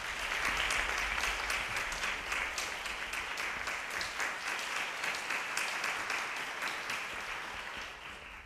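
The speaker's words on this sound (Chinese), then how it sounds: "让我们热烈的掌声欢迎林一伟老师还有徐佳琪老师" A concert audience applauds to welcome performers at an opera talk, a full, continuous wash of clapping that slowly fades toward the end.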